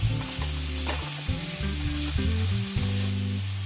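Grated carrot sautés in a pan for mango carrot thokku, a strong close crackling sizzle with a steady electrical hum running underneath throughout the short stretch.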